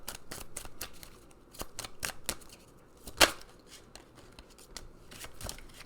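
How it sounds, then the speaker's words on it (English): A deck of unicorn oracle cards is shuffled by hand, giving a series of crisp riffling snaps and slaps, with one louder smack in the middle, all close and quiet. "we're gonna pull a couple more of these unicorn cards"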